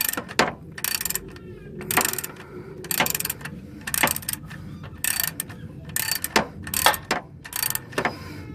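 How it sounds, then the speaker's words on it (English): Ratchet socket wrench tightening an alternator bolt on a Dodge Charger R/T 5.7, heard as repeated close bursts of rapid metallic clicking in a steady rhythm with short pauses between strokes. "I got the socket over there, and just taking my time, tightening the bolt."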